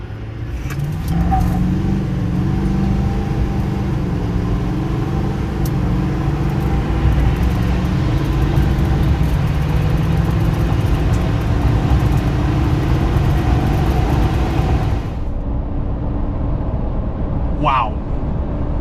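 A 2024 GMC Sierra 2500 AT4X pickup with a 10-speed transmission and 3.42 rear end launches at full throttle: a loud, sustained engine and road roar fills about fifteen seconds, then cuts off abruptly into near quiet.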